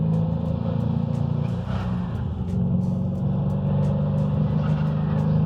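A Hennessey-tuned Cadillac CTS-V accelerates hard from inside the cabin, a deep steady engine drone building as boost comes in, with faint ticking and whooshing over the continuous roar.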